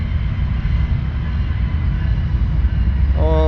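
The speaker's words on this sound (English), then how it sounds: "And the train's here." A train rumbles past very close and loud in a continuous heavy roar, and a horn-like tone begins just at the end.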